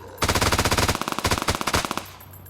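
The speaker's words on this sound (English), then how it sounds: "God, that gun sounds really good." Rapid automatic gunfire from an SMG in the video game Beyond Sandbox, a loud sustained burst of fast shots followed by a shorter choppier burst, with no talk over it.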